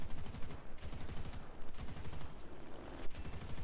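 Rapid bursts of aircraft gunfire from an A-1H Skyraider in the War Thunder combat flight game, loud, dense rattling volleys repeating in quick succession for several seconds with no talk.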